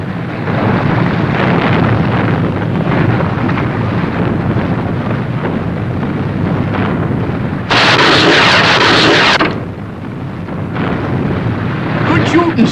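A gun firing a line in a puppet sci-fi show, heard as a sudden burst of loud, hissing noise that lasts about two seconds over a continuous roaring rumble.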